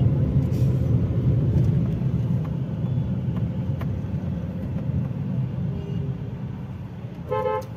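Congested night traffic near Howrah station in Kolkata rumbles steadily with idling and creeping car engines, while scattered horn toots sound through the jam and a sharper cluster of honks comes near the end.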